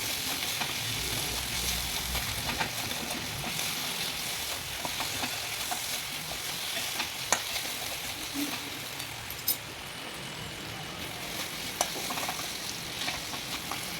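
Tomatoes frying in oil in a pan for a Bengali-style chicken curry, stirred steadily with a utensil; a continuous close sizzle runs throughout with occasional sharper scrapes and clicks, and no voice over it.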